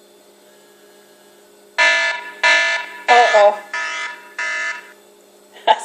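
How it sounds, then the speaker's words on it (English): A kitchen timer alarm goes off in five loud, evenly spaced buzzing bursts, each about half a second long, with a brief spoken exclamation partway through. "That's the timer already."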